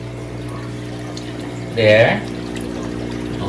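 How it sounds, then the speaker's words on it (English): An aquarium pump feeding water into a 90 gallon tank with a mechanical overflow gives a steady, even hum with running water beneath, interrupted briefly by a short spoken word. "So water is being pumped in here."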